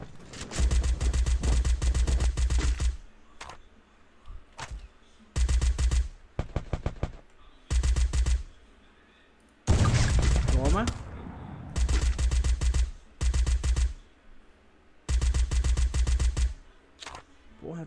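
Bursts of rapid automatic gunfire in repeated volleys from the video game Free Fire, loud and close, separated by short pauses, with a few single shots and brief voice sounds between.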